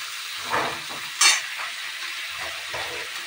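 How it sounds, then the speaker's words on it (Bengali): Onions fry in hot oil in a wok, a close steady sizzle with a few sharper hissing bursts and faint scraping as they are moved about, no voices. "পেঁয়াজগুলো খুব ভালো করে ভাজতে হবে।"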